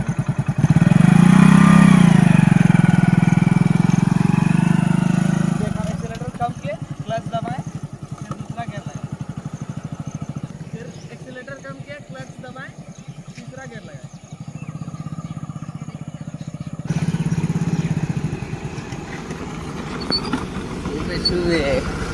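A motorcycle engine roars loudly and revs as gears are shifted, then drops to a lower running drone and rises again near the end. A voice talks over it throughout.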